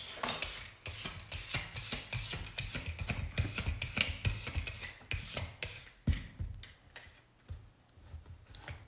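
Butternut squash being peeled with a finger peeler: rapid, rough scraping strokes in a busy rhythm, close and fairly quiet, slowing toward the end.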